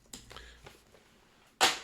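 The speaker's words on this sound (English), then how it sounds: "Somebody's firing off fireworks for some reason" Fireworks pop outdoors at a distance: a few faint muffled bangs followed by one louder, sharper crack, with nobody speaking.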